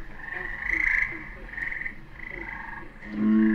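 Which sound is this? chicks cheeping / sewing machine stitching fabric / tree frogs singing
tree frogs singing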